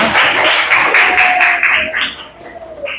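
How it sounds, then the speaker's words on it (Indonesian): Elementary school classmates clap together after a presentation, a brisk burst of applause that thins out over a few seconds while a voice speaks over it. "Oke, tepuk tangan untuk semuanya"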